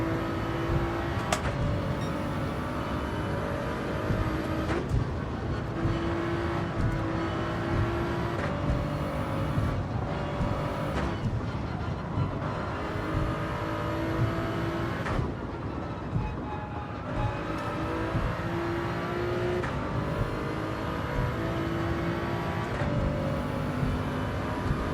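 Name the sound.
race car engines in video game Gran Turismo 7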